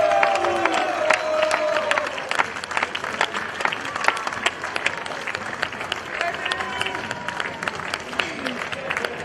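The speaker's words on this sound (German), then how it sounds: "Geben Sie ihm einen großen Applaus." Large outdoor crowd applauding and cheering at a historical festival parade in Furth im Wald, steady dense clapping with scattered shouts and voices throughout.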